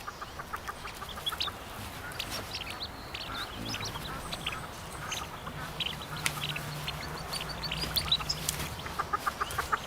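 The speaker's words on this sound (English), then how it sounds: "Prompted by their mother's calls, the ducklings do something remarkable." Outdoors, a mother duck keeps up repeated quacking calls to her ducklings, moderately distant, over a busy natural backdrop of other birdsong and ambient noise.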